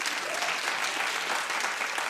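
Studio audience at a daytime talk show clapping together, a dense, even wash of applause that holds steady throughout.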